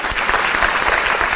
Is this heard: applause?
yes